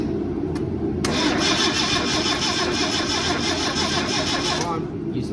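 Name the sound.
Datsun 1600 car engine cranking and starting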